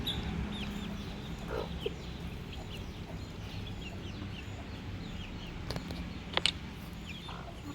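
Soft, scattered clucking of chickens at a moderate distance over a quiet, rustling background, with a few sharper calls near the end.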